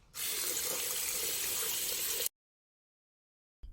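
Water runs steadily from a tap into a sink during handwashing, a close, even hiss for about two seconds that cuts off abruptly into silence, followed by a faint click at the very end.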